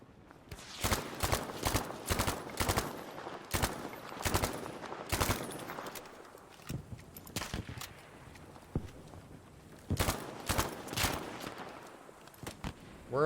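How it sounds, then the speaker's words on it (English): Video game gunfire with a shotgun among the weapons, heard as bursts of sharp, loud shots in rapid clusters, then a quieter gap with scattered movement before another volley, no talking. "World's longest shotgun shot."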